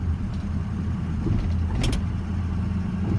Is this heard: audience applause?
no